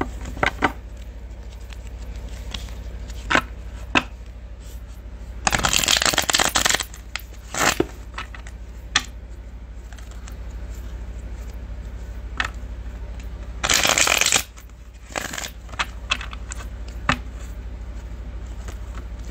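Two bursts of tarot cards being shuffled, riffling loudly for about a second each, separated by scattered soft taps and clicks of cards being handled.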